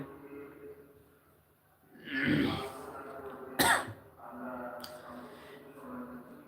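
A person with a cold coughs and clears their throat, first in a rough hacking burst and then with a sharp single cough, among quieter voice sounds on a live stream.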